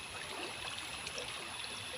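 A small stream on a rural plot flows full after two or three days of heavy rain, a soft continuous rushing wash heard evenly throughout.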